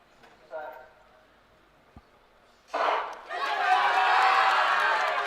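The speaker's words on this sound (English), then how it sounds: "So nice to hear the cheers from the crowd to get these athletes underway." Crowd at a university outdoor athletics championship cheering at the start of a race, rising loudly after a quiet stretch with a brief voice, then a sustained roar of spectators filling the rest.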